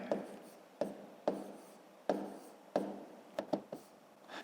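Pen or marker strokes on paper while numbers are written out by hand during a school maths exercise, heard as a series of short scratchy bursts at an uneven pace, close and fairly quiet.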